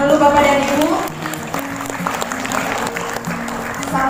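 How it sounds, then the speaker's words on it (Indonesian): An audience at an Indonesian school-innovation presentation claps for the moderator. The applause is modest and patchy, with scattered hand claps that follow a brief voice at the start and sit over a faint tonal background. "Kita kasih tepuk tangan dulu Bapak dan Ibu"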